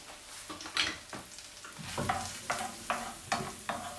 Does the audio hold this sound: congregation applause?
no